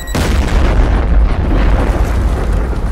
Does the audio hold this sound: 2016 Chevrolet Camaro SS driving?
no